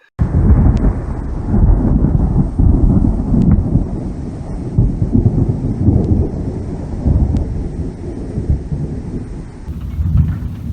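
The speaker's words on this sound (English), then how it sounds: "There's thunder right now south of Lone Butte." Deep rolling thunder rumbles continuously for several seconds near Lone Butte, British Columbia, loud and heavy, with wind buffeting the microphone and rain in the background ahead of hail.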